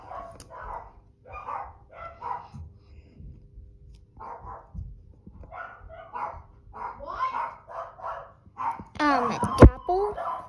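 A dog barks and yips close by in short bursts, interspersed with a person talking, ending in a louder, sharper flurry of barks.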